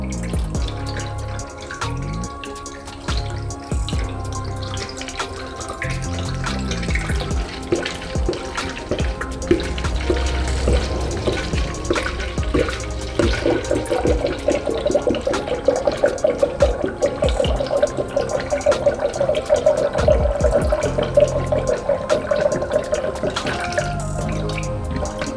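Genuine Toyota 50-50 coolant mix is poured into a car in a steady, continuous liquid stream with trickling and dripping, running loud and close for most of the span with no talking.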